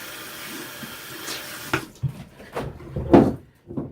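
Warm tap water runs steadily while makeup brushes are rinsed, then stops about halfway through, followed by several soft knocks and clatters of brushes and objects near a sink.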